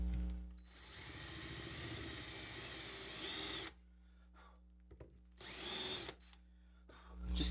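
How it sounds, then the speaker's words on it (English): A power drill with a countersink bit bores into a wooden shelf in two bursts, a long whirring grind, then a pause with faint handling noise, then a shorter run, close and fairly loud. "Now for this, I'm going to use this countersink chuck."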